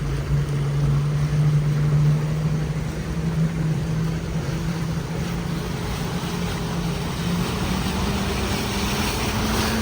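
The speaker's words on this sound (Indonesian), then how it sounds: "Perahunya lewat langsung tancap gas" A speedboat on the Mahakam river passes and accelerates, its engine a steady loud drone with rising pitch, over wind and water noise.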